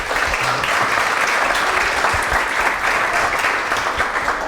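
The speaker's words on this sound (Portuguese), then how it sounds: "uma salva de palmas, né?" Steady applause from an audience welcoming a doctor to the stage at a Brazilian community event, dense and continuous throughout with a faint voice underneath.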